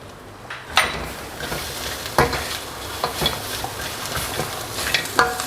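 Crispy pork is stir-fried with chili paste, sliced kaffir lime leaves and chilies in a hot pan, giving a continuous sizzle broken by repeated scraping stirs and utensil knocks, close and fairly loud.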